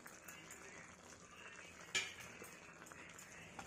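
A spoon stirs mixed vegetables with paneer and garam masala in a pan, faint scraping with a soft hiss of cooking and one sharper clink of metal on the pan.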